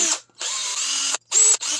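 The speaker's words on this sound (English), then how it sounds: "I have my drill with a wire wheel, and I am just going to reach down in there and" Power drill spinning a wire wheel against a Ford Escape's front brake hub, whirring in three loud bursts with short gaps between, a high scratchy metallic buzz close by.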